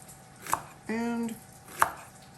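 Shallots are chopped finely with a knife on a board, two distinct sharp knife strikes about a second apart with a short tonal scrape between them, close and clear with no voices.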